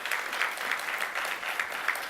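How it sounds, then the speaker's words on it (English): Audience applause at a Trinidad gathering honouring a faculty of education member, a steady dense wash of many hands clapping throughout, moderately loud with no voices. "let us get a round of applause for her"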